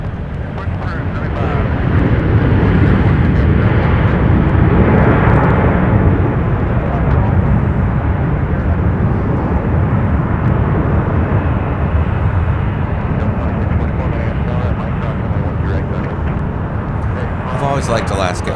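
An Alaska Airlines Boeing 737 MAX 9 arriving from Portland at Minneapolis airport makes a loud, continuous jet roar that swells and holds, with wind buffeting throughout. A person talks over the engine noise.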